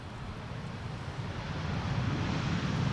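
An Aero Mexico airliner at Amsterdam Schiphol's Polderbaan runway in gusty weather gives a steady, broad engine roar that swells slowly louder, mixed with some wind rumble and no talk.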